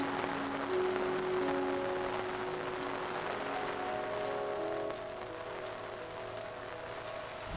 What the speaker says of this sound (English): that was quite heavy rain with a little bit of hail mixed in too